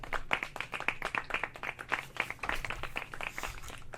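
Hand clapping in a quick, fairly regular rhythm, a string of sharp, close claps lasting several seconds with no talk.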